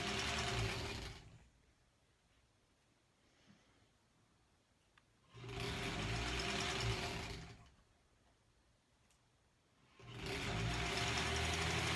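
A sewing machine stitches strips onto a granny square quilt block in two steady, loud bursts of rapid mechanical whirring, separated by quiet pauses of near silence.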